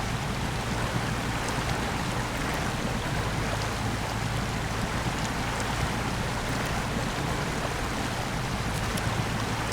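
A pickup truck in SnowRunner wading through a river, giving a steady, broadband rush of flowing water with a low engine hum underneath, continuous and even throughout with no voices.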